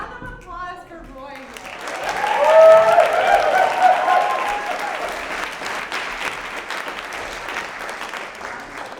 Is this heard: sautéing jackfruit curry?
no